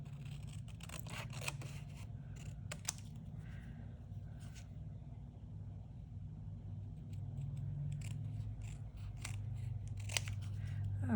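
Scissors trim a paper junk journal embellished dangle, a series of sharp close snips and rustles over a steady low rumble.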